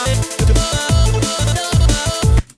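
A short, bright electronic melody for a Friday Night Funkin' song, with punchy bass hits under a busy lead line whose second half repeats the first, loud and upfront before stopping abruptly.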